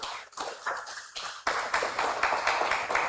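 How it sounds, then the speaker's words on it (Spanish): Congregation at a Spanish-language church service applauding, dense overlapping claps with a brief dip before swelling louder and steady through the end. "Démosle un fuerte aplauso al Señor, hermano"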